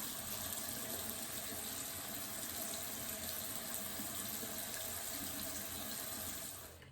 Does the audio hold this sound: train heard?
no